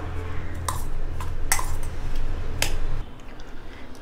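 A spoon clinks and scrapes against a bowl while garlic, green chilli and onion are mixed together, several sharp taps over a soft ongoing stir, close and fairly loud.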